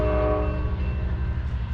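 A single yellow locomotive sounds its horn as it passes near Hanford, a loud sustained multi-tone blast over rumbling rail noise.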